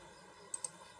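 A computer mouse clicks twice in quick succession while working in GraphPad Prism software, two faint, sharp, close clicks over a low, quiet room hum.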